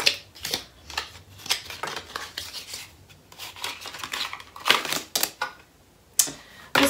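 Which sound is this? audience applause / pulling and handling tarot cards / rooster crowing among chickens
pulling and handling tarot cards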